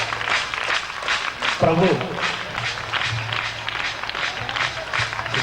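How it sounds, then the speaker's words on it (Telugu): Audience applause at a 2002 gospel song cassette release function, steady clapping from a crowd throughout, with someone speaking over it near the start. "అందరూ చప్పట్లు కొడుతూ వారిని గణపడతాం"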